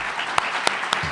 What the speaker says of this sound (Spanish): con un fuerte aplauso tiene la palabra